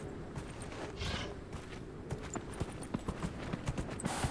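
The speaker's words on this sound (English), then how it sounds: "Can you go up the hill, horse?" Video game horse hoofbeats clip-clop steadily at a walking pace, close and moderately loud, with a soft rushing background.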